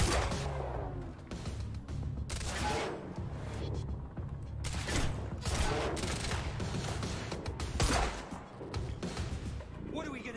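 Quantum Break gunfire rattles in repeated loud bursts and volleys, close and dense, with shouting voices mixed in among the shots.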